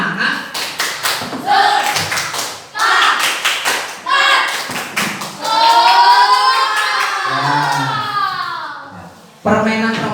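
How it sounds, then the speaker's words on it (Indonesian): An elementary school class of fifth graders performs a rhythmic spirit clap together, with sharp, loud patterned bursts of clapping mixed with children's shouting and chanting voices, ending in a sustained cheer and one more clap. "tepuk semangat"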